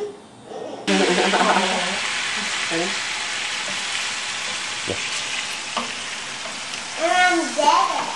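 Cooked pasta being tossed in a pan of brown butter, balsamic syrup, salt and pepper, giving a steady close sizzle with occasional stirring clinks and scrapes, ending in a few louder bubbling pops.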